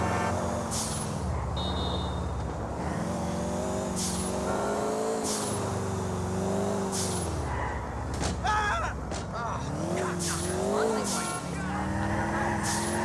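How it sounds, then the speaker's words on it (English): A fast car driven in the video game GTA IV, its engine droning steadily with rising and falling pitch as it accelerates and shifts, loud and continuous throughout, with faint game effects layered on top. "This is a decently fast car"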